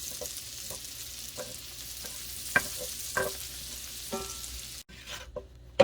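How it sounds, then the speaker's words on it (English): Butter melting in a pan for dirty rice and Cajun shrimp, a soft steady sizzle with scattered light clicks and taps of stirring, fairly quiet and with no talking. "We're going to let that butter melt down."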